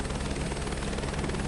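A helicopter in Microsoft Flight Simulator 2024 sounds close and loud, its rotor and engine drone steady and continuous throughout with a deep pulsing low end and no talk.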